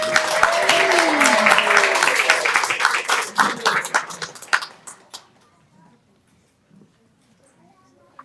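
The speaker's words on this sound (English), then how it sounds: "Can we get one more round of applause?" At an event for a stuttering education center, a room gives a speaker a round of applause that starts full and steady, thins into scattered claps and dies into near silence.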